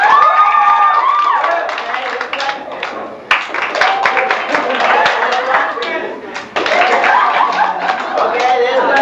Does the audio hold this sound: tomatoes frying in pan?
no